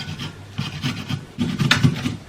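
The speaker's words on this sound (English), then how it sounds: "So I'll just grate the ginger." Fresh ginger is rubbed across a grater in short rasping strokes, close and fairly quiet, several scrapes in quick succession.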